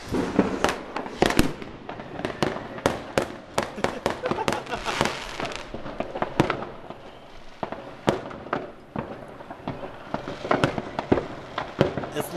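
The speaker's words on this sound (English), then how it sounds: "I'm looking at the fireworks!" New Year's Eve fireworks and firecrackers set off on a nearby street burst in a dense, continuous barrage of sharp cracks and booms, loud and close, with faint voices cheering in the background.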